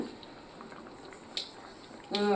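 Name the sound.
fish and raw mango curry boiling in a pot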